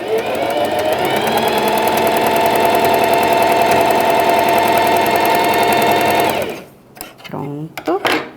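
Sewing machine stitching around a pet bandana, running loud and steady close by for about six seconds before stopping, then a few brief handling noises and a short voice.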